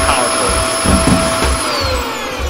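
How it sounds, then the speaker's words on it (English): Vacuum weapon in the video game Kill It With Fire, a steady whirring suction roar with a thin high whine running under it, loud and continuous throughout. "I guess the vacuum's good,"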